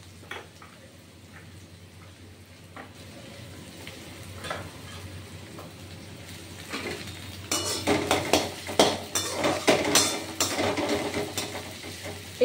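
Chopped ginger frying and being stirred in a pan while cooking potato and paneer, with quiet sizzling at first, then louder clinks and scrapes of a utensil against the pan in the second half.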